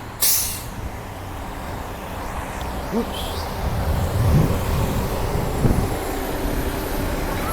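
A school bus passing a cyclist on a New York City street, a sharp air-brake hiss at the start, then steady loud traffic rumble and engine noise close by.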